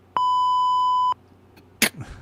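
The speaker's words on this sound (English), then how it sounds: "Why don't they just get the buzzer ready, Shuli?" A censor bleep on a talk show: one steady, loud electronic tone held for about a second, then near silence and a brief burst of noise.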